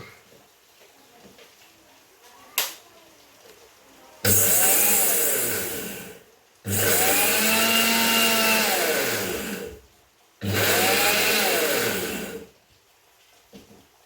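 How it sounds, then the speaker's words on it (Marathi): A kitchen mixer grinder coarsely grinds sesame in three loud whirring bursts of a few seconds each, the motor pitch sagging and recovering, separated by short pauses with a single knock before the first. "आता हे तेल मिक्सरला थोडेसे बारीक करून घेतो, म्हणजे थोडेसे रफली ग्राइंडर करून घेतो, पूर्ण बारीक नाही."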